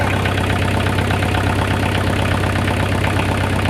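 An old tractor engine, over 30 years old, idles steadily up close with a low, even rumble that holds throughout, no voices over it.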